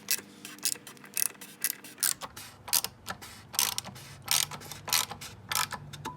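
Up close, a hand ratchet tightens the oil drain plug on a Jeep, making quick bursts of rapid clicking in an uneven rhythm across several short strokes.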